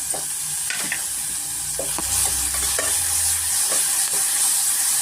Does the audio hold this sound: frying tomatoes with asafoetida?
yes